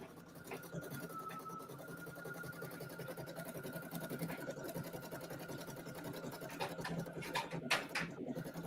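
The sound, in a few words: 10-needle embroidery machine stitching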